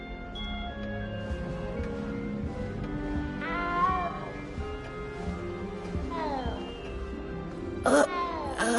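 A small cat meows in the fantasy video game Hogwarts Legacy, a few short plaintive cries rising above a steady bed of orchestral game music, with a louder, sharper meow near the end.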